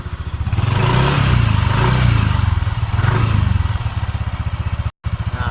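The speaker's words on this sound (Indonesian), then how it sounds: "ini coba digas" A Yamaha NMAX scooter with a rough, growling CVT area is revved up close, its engine rising and falling with a rattly, pulsing clatter and a brief cutoff near the end.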